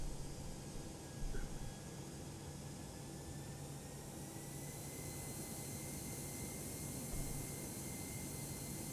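A Toliss A319 airliner rolls down the runway in X-Plane 11, its jet engines giving a steady broadband roar with a faint rising whine. There is no talk.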